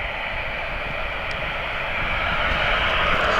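An airliner taxis out at East Midlands Airport, its engines a steady, moderately distant broadband roar that swells slightly toward the end, with no talking.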